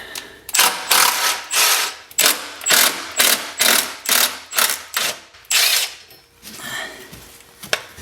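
A wrench ratchets loose the 13 mm bolts holding the exhaust bracket to the muffler of a BMW E92 335i, with repeated close, loud clicking strokes in quick bursts and short pauses between them.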